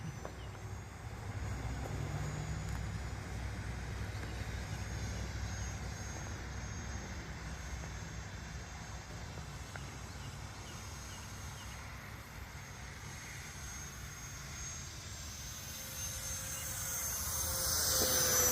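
An E-flite Aeroscout RC plane converted to electric ducted fan flies overhead, its motor throttled to just under half, giving a steady broad whooshing whine that swells louder near the end.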